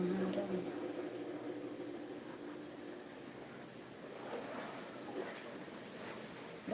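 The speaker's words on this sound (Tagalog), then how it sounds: "Lakas ng hangin, ah." Strong wind gusting outdoors just after a drizzle has stopped, a steady broad rush that swells and eases slightly without pause, with faint voices now and then beneath it.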